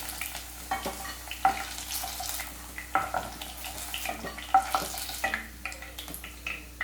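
Chicken pieces fry in a pan with a low sizzle, broken by the irregular scrapes and knocks of stirring and turning them, with no talking.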